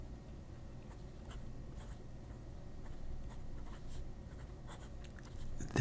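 A Lemon M2S fountain pen with a stiff Bach fine nib scratches across paper in a steady, faint rhythm of light strokes, up close and alone.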